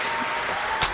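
A round of applause breaks out from an audience, a brief burst of steady, moderately loud clapping with a sharper spike near the end.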